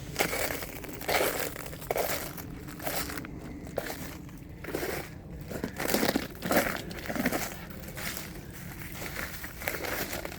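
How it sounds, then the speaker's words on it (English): Ice crunches and cracks in irregular bursts, close and fairly loud, with crinkling, crushing breaks that come and go over a continuous rough background. "So much noise with all this ice"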